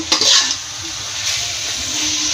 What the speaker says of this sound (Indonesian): untuk terakhir kita masukkan tomat dan daun bawang. Kita aduk sebentar.